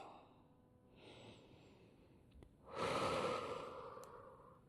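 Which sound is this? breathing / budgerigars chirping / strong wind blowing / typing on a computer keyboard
breathing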